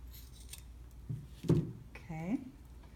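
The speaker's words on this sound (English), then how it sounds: "Trim the dorsal piece as well." Scissors snip through thermoplastic while trimming the dorsal piece of a mallet finger splint, giving a few short, close cuts amid quiet room sound, with a voice speaking briefly.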